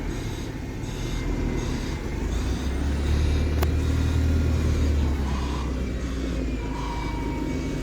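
A bus engine idling and rumbling as the bus reverses at a busy stop in Exmouth, a steady loud low drone that rises slightly midway, with a brief sharp hiss or click.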